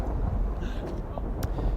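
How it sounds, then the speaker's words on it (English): Gusty wind buffets the microphone outdoors on a rainy day with an umbrella held up, a low rumbling roar with brief crackles, heard under a voice speaking. "it's really windy!"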